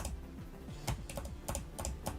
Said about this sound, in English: All I can hear is the clicking.